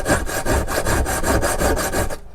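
A metal file rasping rhythmically back and forth while crowning frets on a 1970s Crestwood 2064 guitar, a close, even series of about a dozen gritty strokes.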